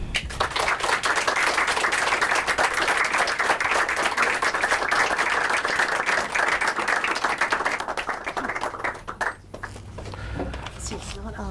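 Warm, sustained applause from a bookstore audience welcoming an author, dense steady clapping that thins out near the end as a voice begins to speak.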